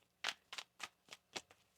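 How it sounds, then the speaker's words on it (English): A deck of tarot cards is shuffled in six quick, crisp bursts, each a soft riffling rustle close to the ear, with near silence between them and no talking. "One more shuffle here."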